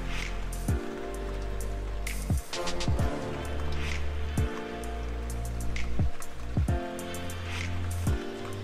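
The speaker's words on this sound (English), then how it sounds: "I love the rain." Steady rain patters on a nearby surface with scattered heavier drips and taps, a continuous close wash of water sound without talking.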